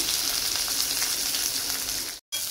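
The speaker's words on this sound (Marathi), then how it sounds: "आता कांदा चांगला भाजून घ्यायचा।" A large lengthwise-sliced onion frying in a spoonful of oil in a pan for shev bhaji, producing a loud, steady close sizzle with a brief cut-out near the end.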